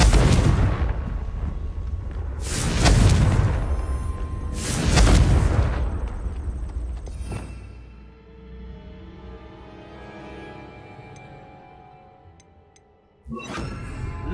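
Confringo spell explosions in the video game Hogwarts Legacy: three heavy booming blasts in quick succession, then a fading rumbling tail and one more sharp hit at the very end.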